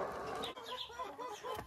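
Young chicks being fed grated raw potato peep and cluck close by, a busy overlapping chatter of small birds with a few brighter calls rising over a steady murmur.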